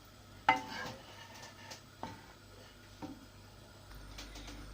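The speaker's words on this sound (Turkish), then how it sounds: "Yavaş yavaş karıştırıyorum." Cherry-sauce pudding (muhallebi) thickening in a pot as it is slowly stirred: faint, sparse scraping strokes with a few soft clicks of the spoon against the pan, over a quiet background with no talk.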